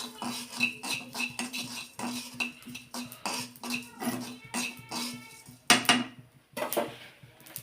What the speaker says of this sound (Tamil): வெந்தயமும் சோம்பையும் போட்டுருவோம் அது சுந்தரமாக வறுக்கணும் கரண்டி தான் வறுத்துக்குவோம்